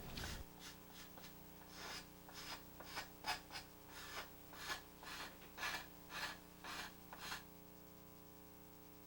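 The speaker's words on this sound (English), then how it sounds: "These flat, foam-filled sanding bars come in several grits and are ideal tools for detail" A flat foam-filled sanding bar works over a finished scale model assembly in quiet, rhythmic strokes. About a dozen soft rasping passes come close to the listener, with a faint steady hum underneath.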